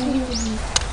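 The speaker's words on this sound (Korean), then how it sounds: "새소리 난다. 오, 새소리 들렸지?" A bird calls outdoors, with a short cooing or chirping note and a brief sharp chirp near the end, moderately close over a faint background of low sound.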